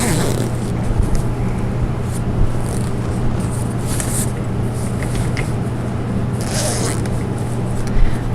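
A zipper on an oval wicker bassinet's fabric cover is worked around the rail, giving a series of short scratchy zipping strokes over a steady background hum.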